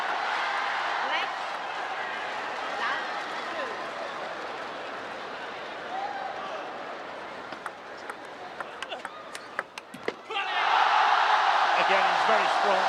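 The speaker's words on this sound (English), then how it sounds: "Just thunderous gyos from the crowd cheering for Xu Xin." Loud, dense roar from a table tennis crowd at the 2016 World Team Championships final, China versus Japan, cheering Xu Xin against Mizutani; a steady wash of cheering and shouting, a brief lull with scattered claps, then a renewed surge of applause.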